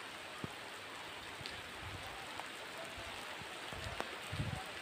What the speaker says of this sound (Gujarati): જોઈ લો હજી વરસાદ આમને ચાલુ જ છે